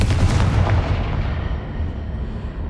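A fire spell bursts with a loud, booming explosion in the Hogwarts Legacy video game, its blast rumbling and then fading into a long decaying roar, with no voices.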